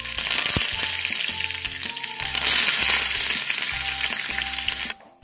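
Curry leaves splutter and sizzle in hot oil with mustard seeds as a tempering, a loud, steady crackling fry that runs continuously for about five seconds before stopping abruptly.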